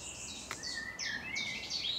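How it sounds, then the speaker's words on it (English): Faint, scattered bird calls and chirps sound in a quiet outdoor space, with a soft hiss of background ambience. "Plenty of birdsong in this wood."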